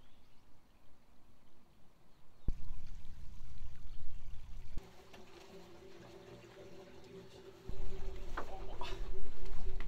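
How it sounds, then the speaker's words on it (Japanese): Spring water drawn and poured outdoors at a tiny mobile house, a steady gush of water with splashing that starts, stops, then flows again, close and fairly loud. "普段湧き水を汲んでそれを生活の水にしてましたね"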